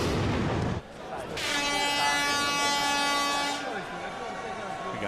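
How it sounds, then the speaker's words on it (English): Air horns blare in a UFC arena during a Kendall Grove vs Jorge Rivera fight, a loud sustained tonal blast lasting a couple of seconds over crowd noise, with commentators talking. "We got air horns and everything."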